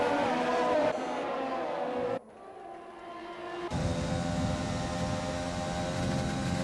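Race cars in a British Grand Prix video game run at Silverstone roar down the Wellington straight, a loud continuous engine drone that cuts out abruptly for about a second and a half before surging back at full volume.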